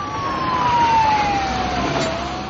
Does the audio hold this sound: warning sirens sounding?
yes